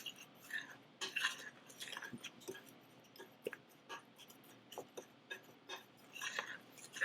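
Dry donut ingredients with cinnamon stirred together in a bowl: faint, quiet scraping and light clinks of a utensil against the bowl, irregular and close, with no talk.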